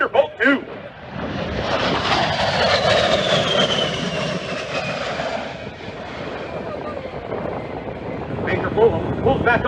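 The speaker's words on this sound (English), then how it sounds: "Here comes Major Fullam and the A10 Thunderbolt 2" An A-10 Thunderbolt II attack jet roars past during an airshow display, its loud, sustained engine whine and rush swelling and sweeping across the sky for several seconds.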